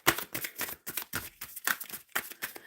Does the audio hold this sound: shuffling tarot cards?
yes